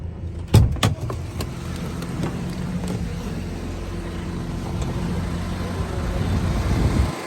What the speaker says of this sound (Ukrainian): зможете почути, як працює двигун все супер, все гарно